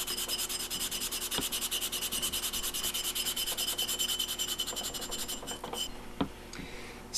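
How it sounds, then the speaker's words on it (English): A coated engine piston is scuffed with Scotch-Brite in fast, even rubbing strokes, a steady close abrasive hiss that tapers off into a few knocks and handling sounds. "so we're going to Scotch-Brite it a touch."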